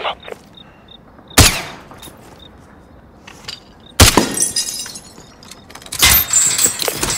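A single sharp, loud gunshot rings out in a Call of Duty: Modern Warfare mission as a light is shot out, followed by more bursts of shots and shattering debris, against a quiet background.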